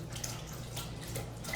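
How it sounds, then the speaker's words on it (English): Sliced vegetables are swished in a bowl of water for rinsing, producing a faint, steady watery wash with soft splashes under a low background hum. "now I have them in some water. What I can do, I just want to rinse them"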